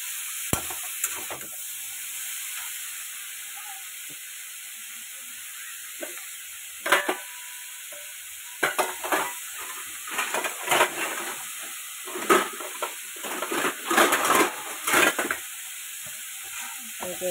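Vegetables for a Bengali vegetarian curry sauté in a covered pan, with a steady sizzle under intermittent scraping stir strokes that grow busier and louder toward the end.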